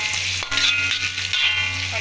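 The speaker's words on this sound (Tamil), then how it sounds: "இப்போ பாருங்கள், நல்லா பொரிஞ்சிக்கிட்டு இருக்கு" Onions with garlic and a little salt fry in a pan, giving a steady close sizzle with a constant low hum underneath and occasional stirring knocks; no one speaks.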